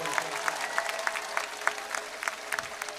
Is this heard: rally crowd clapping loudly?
yes